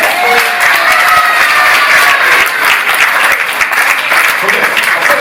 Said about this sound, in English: And a special round of applause to Holly and George for what they've done